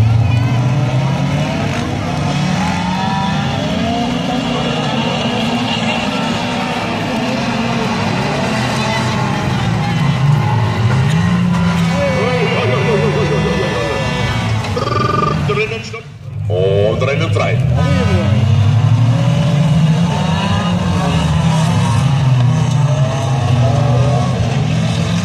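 Stock-car engines roar and rise in pitch as the cars accelerate off the start of a Bavarian championship heat at Solla in 2016, a dense, steady engine drone heard under almost continuous talking.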